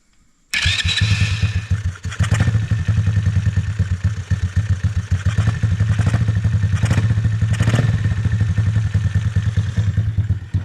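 A Kayo KMB 60 dirt bike engine starts after a brief pause and settles into a steady, loud, close idle with a rattling mechanical clatter that runs on for about ten seconds. No talking.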